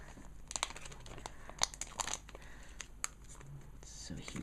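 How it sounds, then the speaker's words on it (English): Close, crinkly tearing and crumpling of plastic packaging as a new RAM module is ripped open, irregular and quiet, with faint muttering beneath. "So just got to rip open this new RAM."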